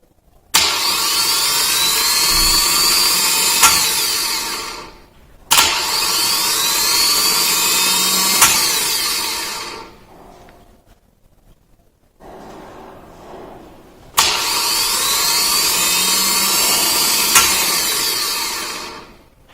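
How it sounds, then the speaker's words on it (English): A car starter motor spins freely on the bench in a no-load test, with three loud, even whirring runs of several seconds each, a sharp click at each start and stop, and brief quiet gaps between runs. "when terminal 50 is powered with battery positive, the starter motor should run smoothly and freely. This is called the no-load test."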